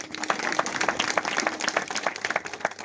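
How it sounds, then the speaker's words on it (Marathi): Applause from a kirtan audience in Samrala, steady broadband clapping with scattered sharper claps throughout, moderately loud and mid-distance. "एकदा सगळ्यांसाठी टाळ्या वाजवा बघा"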